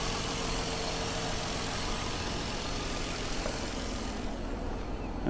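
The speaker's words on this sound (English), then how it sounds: "I can hear the air compressor kicking in and turning off." An old car at a salvage auction idles with its air compressor running, a steady close mechanical hum with a broad whir that cuts off abruptly near the end.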